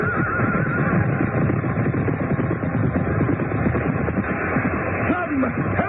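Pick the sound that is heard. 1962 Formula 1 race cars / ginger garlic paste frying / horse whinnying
horse whinnying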